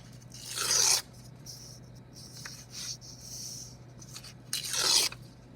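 Paper tears by hand into strips for a collage, with two sharp, close ripping bursts at the start and end and faint rustling handling in between.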